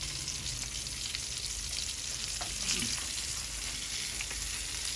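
Rohu fish pieces fry in hot oil with a soft, continuous crackling sizzle, fairly quiet and steady, with occasional small pops and no talking.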